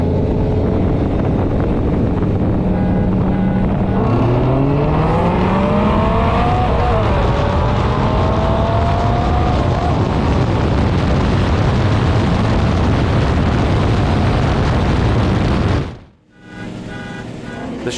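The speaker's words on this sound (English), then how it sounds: "once the Viper's roaring V10 builds some momentum" A Dodge Viper GTS's 8-liter V10 engine roars loudly, its pitch climbing through the gears as it accelerates, with a brief drop near the end before it picks back up.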